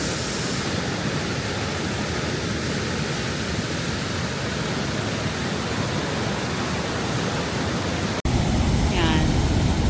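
Rushing water at May Falls in a Canadian mountain area, a loud, dense, unbroken roar heard close by. A voice speaks briefly over it near the end.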